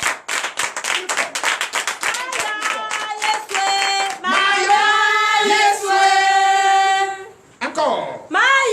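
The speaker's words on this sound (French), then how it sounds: "je vous demande de les applaudir très fort" Church congregation at a night prayer service claps loudly in quick rhythmic bursts, then the clapping gives way to loud voices shouting and singing together.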